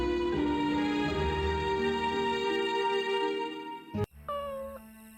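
A cat meows in the adventure game Jonathan Danter: Belief & Betrayal, one drawn-out call heard close over a sustained tonal music bed, followed by a sharp click.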